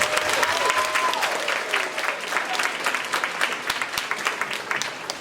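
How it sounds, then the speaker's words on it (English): A school audience claps loudly for fifth grade graduates, a dense, sustained burst of applause with scattered cheers throughout. "let's give a round of applause for the 5th grade graduates."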